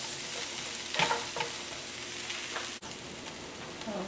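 Pollock and garden vegetables sizzle steadily in a hot pan, a dense crackling fry with a few stirring scrapes and one sharp clack of a utensil partway through.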